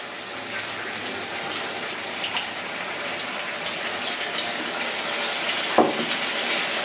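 Rice wine pours into a cooking pan, giving a continuous watery splash and gush that runs steadily from start to finish, with one brief clink near the end.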